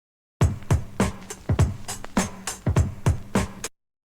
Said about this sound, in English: The actual drum group itself is just a break beat I got from Splice.